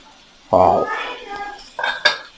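A metal lid clanks against a cooking pot of stovetop tandoori chicken, followed by lighter scraping and a couple of sharp clinks of metal on metal, close by.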